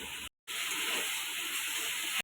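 Chili powder hits chicken frying in a pan, giving a steady broadband sizzling hiss that stops for a brief moment near the start and then resumes evenly.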